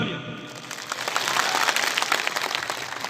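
Loud crowd applause at a tribal political rally in Margherita, Assam, building after a brief quiet start into dense, sustained clapping that carries on steadily to the end.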